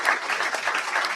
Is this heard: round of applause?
yes